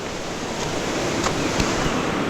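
Rushing water from springs and a river in a forest during river fishing, a loud, dense broadband roar that fills the whole stretch with no voices.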